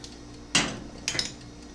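Turkey tetrazzini made with freeze-dried mushrooms is scooped out of a pot, giving two separate clattering scrapes of a utensil against the metal, the first sharper and louder, the second shorter, in a quiet room.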